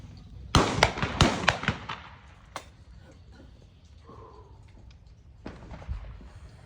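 Several sharp, loud shots crack in quick succession at a shooting competition in Ivano-Frankivsk, followed by quieter stretches and a few more distant reports, with faint voices in the background.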